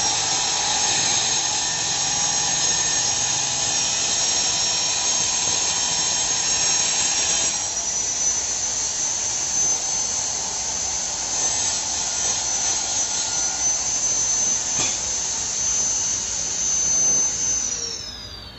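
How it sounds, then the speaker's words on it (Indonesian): An angle grinder cuts through a flower pot being shaped for a koi pond waterfall, a loud continuous high-pitched whine with grinding grit that holds steady, then slightly changes pitch near the end. "Saya potong menggunakan gerinda"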